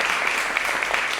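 Audience applause at a poetry slam, a brief burst of dense clapping from a crowd indoors, steady and moderately loud, with no talk.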